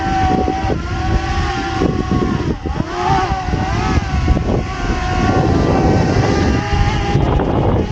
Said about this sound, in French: le vent l'a poussé, hein, on a au moins 40 km/h de vent